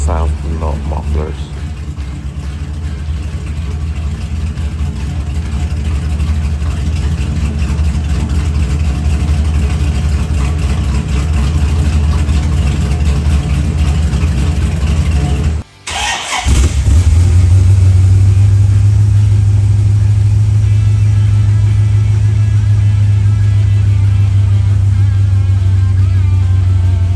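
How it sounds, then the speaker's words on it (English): A 1993 C4 Corvette with no mufflers idles with a deep, rough rumble, then after a brief drop the open exhaust settles into a louder, steadier drone at higher revs, close by. "This is what it sounds to no mufflers."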